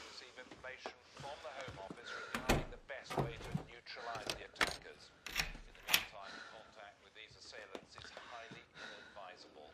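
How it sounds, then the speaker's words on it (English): A front door slamming shut during a tense, action-filled movie scene, sharp percussive thuds standing out among overlapping dialogue and other effects. "I'm going to shut the front door."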